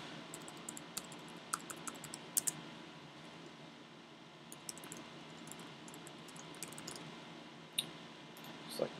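Scattered keyboard typing clicks, short irregular bursts of keystrokes and taps at low level over a steady faint background hiss, with no voices.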